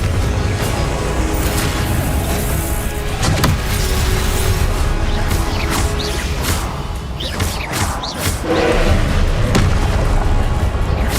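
Repeated Confringo fire-spell blasts in Hogwarts Legacy, loud booming bursts over a dense, constant game soundscape, with a voice shouting spell names throughout.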